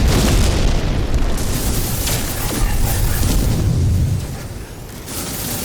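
Infra-Knife ship weapon in No Man's Sky fires in a sustained rapid barrage, heavy booming bursts merging into a continuous loud roar that eases slightly near the end.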